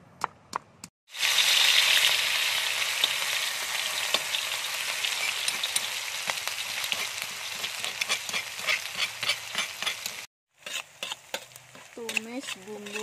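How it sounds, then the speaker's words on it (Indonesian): Pounded spice paste with shrimp paste sautés in a pan, bursting into a loud sizzle after a short quiet start, then crackling steadily with spatula scrapes and clicks before a sudden cut and a few scattered knocks. "Tumis bumbu yang udah ditumbuk tadi."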